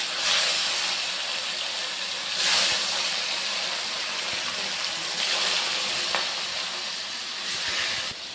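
Fish dropped into hot oil seasoned with salt and turmeric sizzles with a steady, loud hiss that swells in bursts, close by and with no talking over it.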